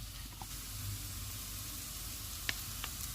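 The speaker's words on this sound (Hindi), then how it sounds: "ऑयल गर्म हो गया, इसमें प्याज डाल देंगे" Onions frying in hot oil: a steady, fairly quiet hiss of sizzling throughout, with one sharp click partway through and no voices.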